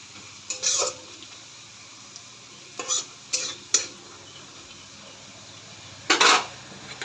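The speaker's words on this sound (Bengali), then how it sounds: "আর একটু ভাজা করে এর মধ্যে চিকেনটা দিয়ে দেবো।" Scattered scrapes and clinks of a utensil stirring chicken frying in a pan for biryani, several short strokes with pauses between, over a faint low sizzle.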